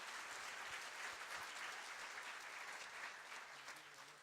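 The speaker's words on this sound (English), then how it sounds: "Applause." Realtors at a mandatory Keller Williams Heritage office meeting applauding, a steady stretch of dense clapping from a roomful of people that eases slightly toward the end, fairly quiet and with no speech.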